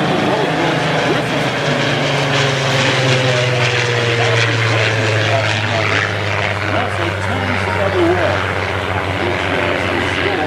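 A Spitfire propeller aircraft drones loudly overhead during an airshow pass, its engine tone sliding lower as it passes, with a voice talking over the roar.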